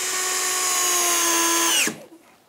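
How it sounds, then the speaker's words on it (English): Power drill driving screws to fix back covers onto a camping power hub, a loud close whine held for almost two seconds, then winding down sharply and stopping, followed by faint handling noise. "And now I'm able to get these back covers screwed in place."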